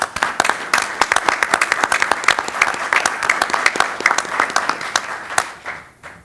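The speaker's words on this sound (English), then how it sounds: "I think we should give you a round of applause for all your good work" A room at a city commission meeting breaks into applause, many hands clapping in a dense, lively patter that holds for several seconds and then tapers off quickly at the end.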